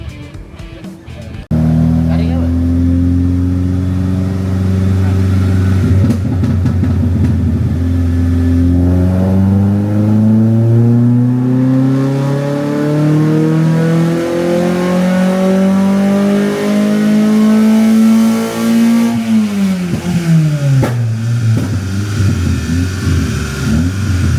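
A Proton Wira with a 4G92 engine and a rechipped ECU, running lean and strapped to a dyno, revs in one long, loud climbing pull. The engine note rises steadily for about twenty seconds, then drops sharply as the throttle closes.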